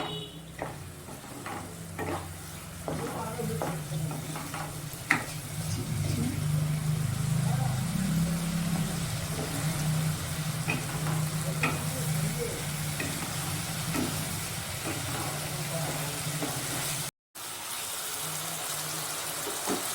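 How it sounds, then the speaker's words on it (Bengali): Koi fish frying with spices in a pan, a continuous close sizzle with stirring scrapes and occasional utensil clicks, a low hum underneath, and a brief dropout near the end. "মশলা দিয়ে আমি আবার কষিয়ে নিচ্ছি।"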